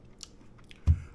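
Someone bites into a microwave-poached egg with cheese, giving one short, close, soft crunching chew after near silence.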